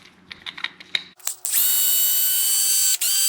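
A small electric screwdriver removes tiny 1.5 mm screws from an RC truck axle: a few light clicks and taps, then a steady high motor whine that holds for almost two seconds with one brief dip.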